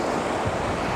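Loud, continuous rush of churning floodwater, a broad roaring wash with no voices.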